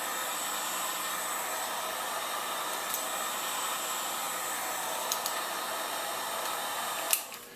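A heat gun blowing hot air onto a rifle receiver clamped in a vise, a steady close whooshing hiss throughout, with a few faint clicks and a sharper tap near the end.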